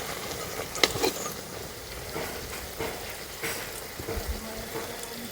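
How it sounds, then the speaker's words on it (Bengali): Khaja pastries frying in oil, a soft continuous sizzle with scattered pops and crackles, fairly quiet and close. "এইভাবে করে প্রত্যেকটা ভেজে নেব।"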